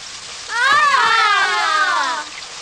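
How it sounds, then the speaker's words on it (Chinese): Sudden heavy rain breaks over a football match in an animated series, a loud rushing downpour that swells in and holds steady for about two seconds before easing, with no talking. "突然间落大雨添"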